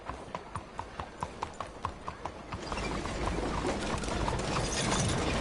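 Horse hooves clip-clopping in the video game Red Dead Redemption 2, a steady rhythmic trot of sharp clops that gives way to a louder, denser gallop with rushing noise.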